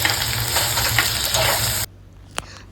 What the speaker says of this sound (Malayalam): അഞ്ചെട്ട് പീസ് ചെറിയ ഉള്ളി കൂടി ചേർത്ത് നന്നായി വഴറ്റുക ഒരു സവോള ചെറുതായി കട്ട് ചെയ്തെങ്കിലും ചേർത്ത് വഴറ്റി കൊടുക്കുക